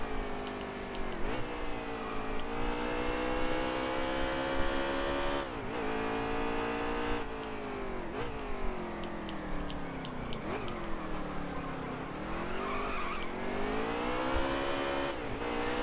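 Stock cars in a NASCAR racing video game at Sonoma roar continuously, with dense layered engine drones from a pack of cars rising and falling through gear changes and braking, loud and steady throughout.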